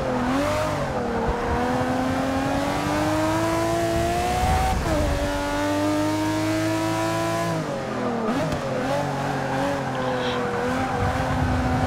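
A Mercedes CLK GTR race car in Forza 6 at Watkins Glen screams at full throttle, its loud steady engine note climbing through gears with brief drops at shifts, sustained and close throughout.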